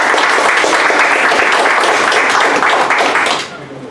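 Applause at a CMDU council meeting, dense steady clapping from a room of people for over three seconds that then abruptly drops away.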